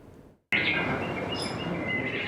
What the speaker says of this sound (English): Chirping birds